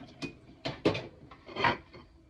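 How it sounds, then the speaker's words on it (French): Clinks and knocks of dishes being handled and rinsed, a few irregular clatters close by at moderate volume, no speech. "Il faut laver la vaisselle."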